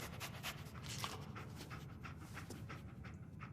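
Dogmeat, the dog companion in the video game Fallout 4, panting steadily and rhythmically throughout, close and fairly loud, with no talking over it.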